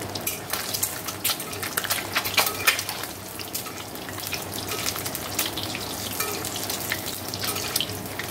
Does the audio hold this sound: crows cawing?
no